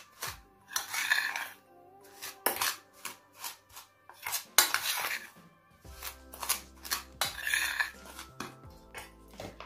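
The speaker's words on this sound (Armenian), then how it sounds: "2 ճաշի գթալ կակաո, այս ամենը մի փոքր խառնում ենք" A utensil stirs cocoa into honey cake batter in a bowl, producing repeated close scrapes and clinks against the bowl in an uneven rhythm, with brief pauses between strokes.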